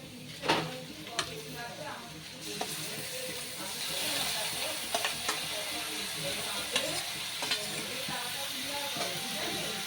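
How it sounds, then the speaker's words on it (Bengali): Katla fish fat frying with onions in a pan, a steady dense sizzle with scattered sharper crackles and stirring scrapes, with a voice talking over it at times. "এই সময় কিন্তু আমি মাছের তেলটা এর মধ্যে দিয়ে দেবো।"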